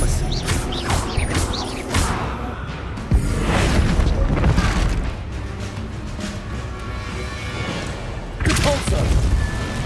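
Spell effects from the Hogwarts Legacy video game, including an Expelliarmus cast, sound as a series of booming blasts and crashing impacts with whooshing swells, loud and close, with voices mixed in.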